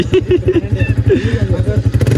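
Motorcycle engine running in a village setting, a close uneven putter with a few revs while people talk over it.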